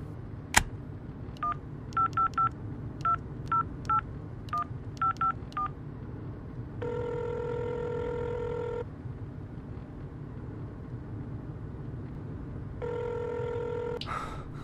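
A telephone being dialed with a quick run of touch-tone beeps, then two long electronic ringback tones separated by a pause, clear and close against a faint background hum.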